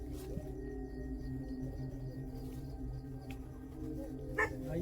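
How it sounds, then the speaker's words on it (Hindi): A dog barks somewhere off in the distance near a well at night, a couple of faint, brief yips set against a steady low background hum. "इधर से कोई कुत्ता भौंक रहा है,"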